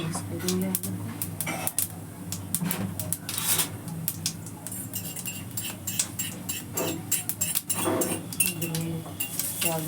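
A potato filling for aloo paratha being mixed in a bowl, with irregular clinks and scrapes of a utensil against the dish, a voice talking over the clatter.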